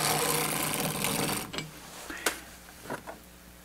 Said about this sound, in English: raise the V-cam in 1/2 turn increments